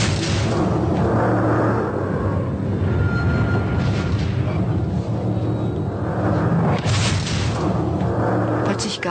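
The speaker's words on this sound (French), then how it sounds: "Soudain, il y a eu une explosion." A deep, continuous rumbling roar like a large blast aboard the ship Wilhelm Gustloff, dense and loud throughout with swelling low-end booms.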